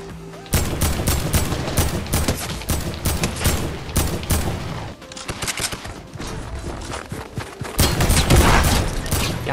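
Dense, loud, nearly continuous gunfire from weapons in the Fortnite video game, rapid volleys and bursts layered together with a brief dip midway before swelling again.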